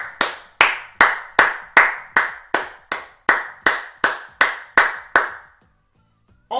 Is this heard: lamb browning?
no